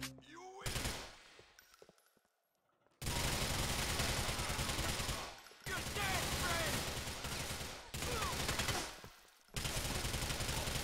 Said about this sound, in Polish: Też mam automatyczny pistolet.